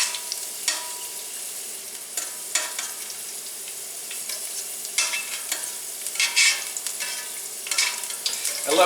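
Rosemary leaves frying in a pan until crisp, a light continuous sizzle broken by repeated scraping stirs and crackly bursts at irregular intervals.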